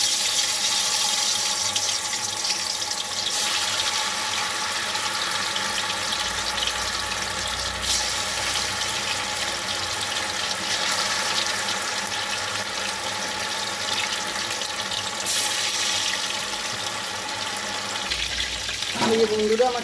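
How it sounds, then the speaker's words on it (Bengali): Chicken 65 pakoras deep-frying in hot oil give a steady, close sizzling hiss that runs unbroken throughout, with a brief clatter of stirring near the end. "যাতে চিকেনগুলো ভালো করে ভাজা যায় ডুবো তেলে। তেলটা আমার গরম হয়ে গেছে।"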